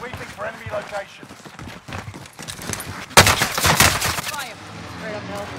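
Video game gunfire in Caldera, bursts of rapid shots that grow loud and dense midway, with excited players talking over them.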